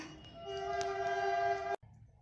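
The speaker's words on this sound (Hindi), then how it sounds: "सॉरी, ट्रेन हमेशा आती रहती है" A train passes close by and sounds a long, steady horn that holds for over a second and cuts off abruptly, leaving quiet room tone.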